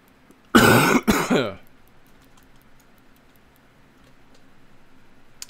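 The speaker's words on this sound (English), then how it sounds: "I will stop coughing one day, hopefully." A short burst of two or three harsh coughs up close, followed by quiet room tone.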